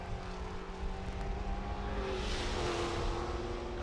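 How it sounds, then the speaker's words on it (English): A Maserati race car at Laguna Seca during a vintage and modern race weekend makes a steady, fairly distant engine drone that swells slightly as it carries on. "Chris Coffey and the Maserati, followed by a Lamborghini"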